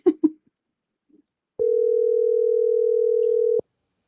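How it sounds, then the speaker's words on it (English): A telephone call line gives a single steady two-second ringback tone, clear and close, after a couple of brief voice-like sounds. "we got the phone's ringing."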